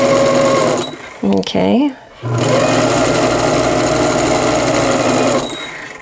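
A sewing machine sews a stretched second row of stitching on a knit dress, whirring loudly and close. It stops briefly while a voice speaks a word, then runs steadily again for several seconds.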